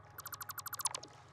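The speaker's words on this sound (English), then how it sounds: "If it makes the beep noise, it means it will connect." A rapid series of about a dozen short electronic beeps from connecting splitters in the Satisfactory video game, evenly spaced, soft and clean, ending with a couple of fainter tones.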